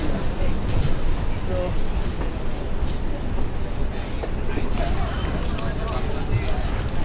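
A local train pulls into Princep Ghat station with a steady, loud rumble of wheels and carriage noise, crowd chatter and voices mixed in throughout.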